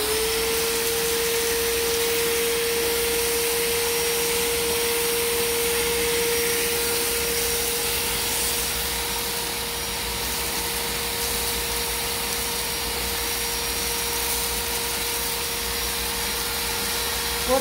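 A vacuum cleaner sucks debris out of a chinchilla cage with a loud, steady whine and airflow roar that runs nearly unchanged for the whole stretch, close by and without voices.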